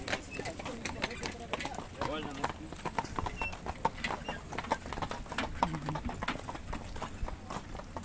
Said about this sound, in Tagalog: Doon ang kabayo oh.